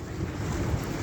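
Motorboats that ferry passengers to Talim Island at Binangonan port rumble steadily in low tones, with wind buffeting the microphone and water washing nearby, no voices.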